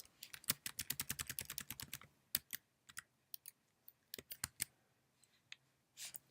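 Fingers type quickly on a computer keyboard, a fast close burst of crisp key clicks followed by slower scattered taps and pauses, quiet and with no talking.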